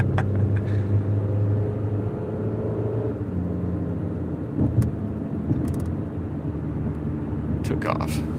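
A Genesis G70 car accelerates away with a low rumbling engine roar that eases after a few seconds and fades into road rumble, while people talk over it.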